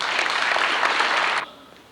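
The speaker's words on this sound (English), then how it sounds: "have you to give them a round of applause for winning each month" A school honors-day audience in a high school hall applauds a student of the month. The clapping is dense and steady for about a second and a half, then cuts off quickly into a quiet room.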